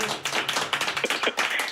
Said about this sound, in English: That should have been filled with some applause.